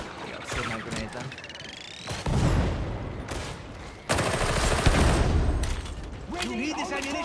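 Grenade blasts and rapid gunfire in Warhammer 40,000: Darktide, loud bursts of fusillade and machine-gun fire with heavy booms around two and four seconds, layered under excited player talk.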